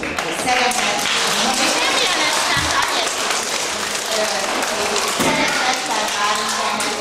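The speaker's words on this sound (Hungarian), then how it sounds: "majd a jelzésemre egy jó nagy tapsot kérek még" Loud, continuous applause and clapping from an audience at a local town event with children performing, mixed with crowd noise, thumps and voices talking over it throughout.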